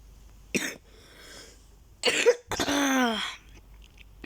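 Close, harsh coughing comes in separate bursts: a short one, a pause, then a rough double cough that trails into a hoarse, voiced rasp.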